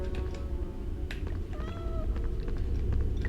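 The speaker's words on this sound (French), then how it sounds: "c'est un chat" A cat meowing, two or three short rising meows close by over a low background hum.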